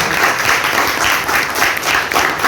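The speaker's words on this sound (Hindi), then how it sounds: "एक बार सभी बच्चों के लिए एक बार जोरदार ताली बजाएं।" A crowd at a community event honoring child athletes claps loudly in sustained, dense applause.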